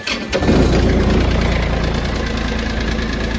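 A diesel tractor engine cranks and catches with a loud rumble, then settles into a steady, heavy knocking idle that continues close by with no talking.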